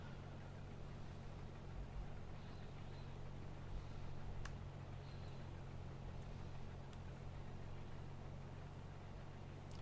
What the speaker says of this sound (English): I also don't like how hard this thing revs.